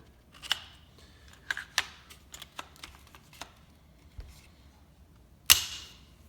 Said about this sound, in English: I'm going to go ahead and put this rifle back together here real quick, just so I can dry fire it a couple times for you.